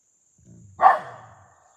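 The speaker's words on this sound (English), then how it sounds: "Wally, what are you barking at?" A dog named Wally gives a single sharp bark in a wooded spot, brief and fairly close, preceded by a low faint rumble and followed by quiet.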